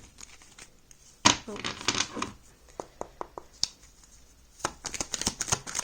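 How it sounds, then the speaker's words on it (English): Crisp bursts of shuffling tarot cards, a flurry of riffles followed by several short separate snaps and another quick shuffle, with a brief spoken word. "I feel like shuffling one more time."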